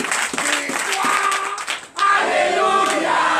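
A church congregation at a Sunday service in Benin claps and shouts in acclamation, a lively mass of clapping and voices with singing tones over it, briefly dipping before swelling again.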